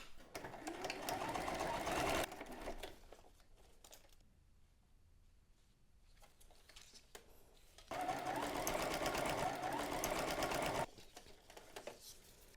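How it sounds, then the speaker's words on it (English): A sewing machine runs a straight stitch along ribbon in two bursts of rapid, close mechanical chatter, separated by a quieter pause. "I'm using a straight stitch and trying to stitch as closely to the edge as possible"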